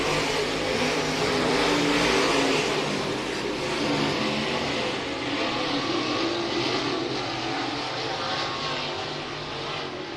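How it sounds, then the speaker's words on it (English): Wissota late model race cars roar through a heat race at Hibbing Speedway, a loud, continuous wall of engine noise that swells and fades slightly as the pack circles, with no voices. "Heat race 1 of 2 in your Wissota late models."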